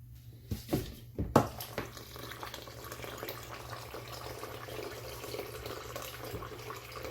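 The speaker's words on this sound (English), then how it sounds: "And then we load it up with water." Water runs from a tap in a steady splashing stream after a few sharp clunks at the start, filling a cold brew coffee container close by.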